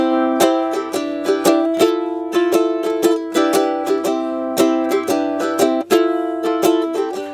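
A ukulele strummed in a steady, bouncy rhythm, bright chords ringing clearly up close, with no voices.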